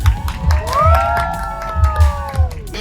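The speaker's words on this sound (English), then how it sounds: "clap your hands and make some noise" A street-show crowd in Times Square, New York City, cheers and shouts loudly, with whoops and some clapping rising close by over the busy outdoor din.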